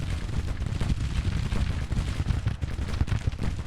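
Volleys of musket and cannon fire crackle from a Civil War battle in Grand Tactician: The Civil War. Many overlapping shots form a continuous, loud, rumbling barrage with no talk.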